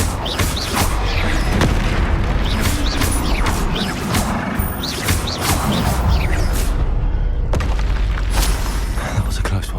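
Repeated booming blasts from the Confringo fire spell in the Hogwarts Legacy video game, loud and dense, mixed with clanking mechanical combat noise and a voice calling out spells.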